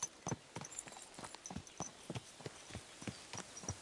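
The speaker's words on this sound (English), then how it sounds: "So you can follow the path at a canter." Horse hooves canter along a path in the medieval game Kingdom Come Deliverance 2, a steady rhythmic clip-clop of about ten beats, fairly close and moderately loud, with no talk over it.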